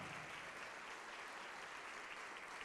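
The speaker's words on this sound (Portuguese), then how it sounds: "Vamos aplaudir mais ao nome de Jesus." A church congregation applauds in a dense, steady wash of clapping that continues without break, fairly distant and even in volume.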